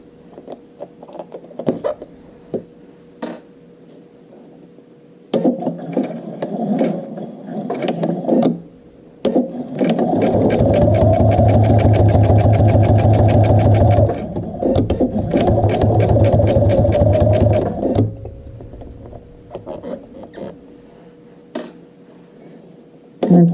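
A sewing machine back stitches a zipper onto a front flap, running in short stop-start bursts, then a long steady whirring run of rapid stitching, then more brief bursts, close and loud with no talk.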